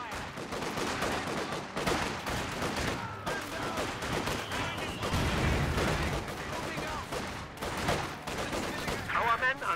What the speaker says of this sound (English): Under small arms fire.